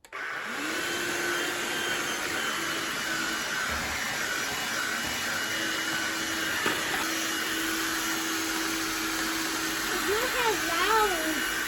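A Black and Decker Lithium Dustbuster handheld cordless vacuum runs steadily with a constant whirring motor drone; a voice and faint meow-like sounds rise near the end.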